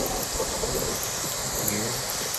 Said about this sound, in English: Oh, it's raining hard and I don't have my rain catchers yet.